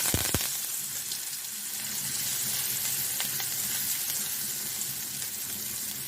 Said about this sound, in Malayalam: അപ്പോൾ നമുക്ക് ഉണക്ക വാള ഇട്ട് കൊടുക്കാം.